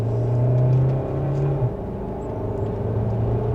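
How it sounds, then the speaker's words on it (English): A 2026 Kia Sorento Hybrid X Line SX Prestige, a three-row SUV in sport mode, accelerates in second gear. Heard from inside the cabin, it gives a steady, moderately loud engine drone and rumble with a slight shift in pitch partway through. "But with a small acceleration, we are up to speed for the Kia Sorento."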